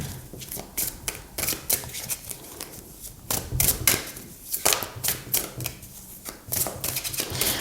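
Tarot cards shuffled by hand up close, crisp papery riffles and flicks in irregular bursts with short pauses between them.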